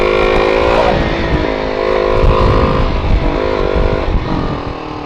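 Busy road traffic with cars and motorcycles passing nearby, a continuous engine roar with revving swells and a few bike engines rising and falling, loud and close with no speech.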